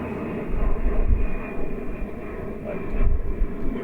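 An airplane passes low overhead on its landing approach above the Aylesbury Arm of the Grand Union Canal, a steady, loud broadband engine roar with a faint high whine that swells twice, near the start and again toward the end, with no talk.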